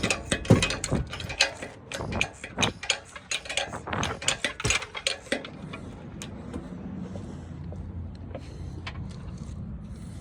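A hoist lifts a car engine out of its bay, giving a run of sharp ratcheting clicks and metallic clanks in uneven bursts, then fading to a quiet low rumble of background noise.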